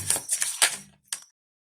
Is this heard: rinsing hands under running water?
no